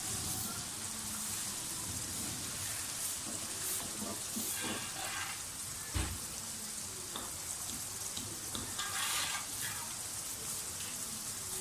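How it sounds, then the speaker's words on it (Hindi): Pumpkin and chana dal fry in a pan with a steady, dense sizzle and crackle throughout, and a few brief clinks are heard but no voices. "इनको थोड़ा सा फ्राई करें।"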